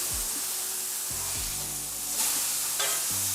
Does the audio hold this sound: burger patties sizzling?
yes